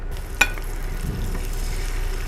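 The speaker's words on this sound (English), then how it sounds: "You can hear the sizzle already." Jumbo shrimp frying in a pan for seafood alfredo give a steady broadband sizzle throughout, with one sharp clink of a utensil near the start and no talking.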